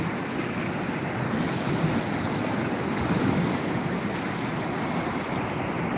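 Sea waves and wind heard while out on the water: a continuous, loud broadband wash with gusty microphone wind noise, steady throughout and without speech.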